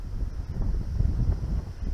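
Steady wind buffets the microphone outdoors while spin fishing for pike, a low, continuous rumble and roar, with no voices.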